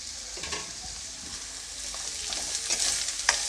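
Chopped beans, cabbage and other vegetables stir-frying in a pan for paneer fried rice, a steady close sizzle with scraping stirs and clatters building toward the end, no talking.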